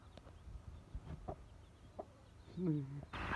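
A hen clucks softly with newly hatched chicks in a farmyard nest, a few scattered low clucks and faint peeping heard close by over background noise, with a person talking nearby.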